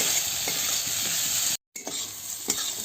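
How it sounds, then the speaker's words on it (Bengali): Shrimp stirred and sautéed in a pan, a dense bright sizzle with occasional soft spatula scrapes, close and steady, broken by a brief silent gap midway. "চিংড়ি মাছগুলো দিয়ে দেবো, ভালোভাবে কষে নেব।"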